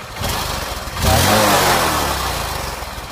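A used motorcycle engine idles with a low putter, then is revved up sharply and held at a higher pitch before easing down, recorded close.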